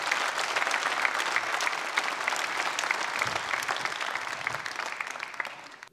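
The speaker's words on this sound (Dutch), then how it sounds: "applaus voor Martin de Vries" Dense audience applause fills a room at a book presentation on Dutch basketball history, sustained and even for several seconds before fading out at the end.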